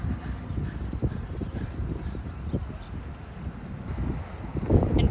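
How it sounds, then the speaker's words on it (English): Wind blows across a microphone outdoors at a roller coaster construction site at Hersheypark. Low rumbling buffets run continuously and swell louder toward the end, with a couple of faint bird chirps in the distance. "It is starting to get a little windy, so I'm not sure how the audio is on this."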